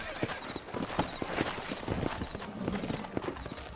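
Horse hooves clip-clop at a steady walking pace in the video game Red Dead Redemption: Undead Nightmare, moderately close, with faint background noise.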